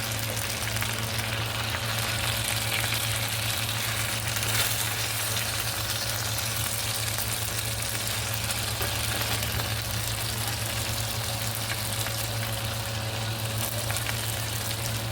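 Chicken inasal frying in a pan, a steady close sizzle and crackle that runs unbroken and fairly loud for the whole stretch, with a low hum beneath and no talking.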